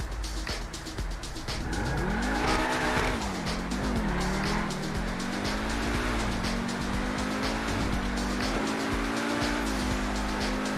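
A fast car in GTA Online roars as its engine climbs and drops through the revs, joined by tyre squeal, loud and continuous for about eleven seconds with bright, gritty noise over a rising and falling engine tone.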